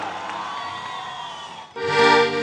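At a concert during the Toro, Valle fair, a crowd cheers and shouts over sustained music, swelling louder toward the end.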